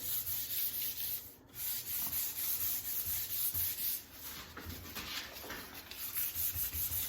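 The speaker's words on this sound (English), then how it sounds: "You're just lightly sanding the bumpy parts off of the finish." Light hand sanding of a brushed-on polyurethane finish on wood, a steady close scratchy rubbing that runs almost without pause in long even strokes, with no voices.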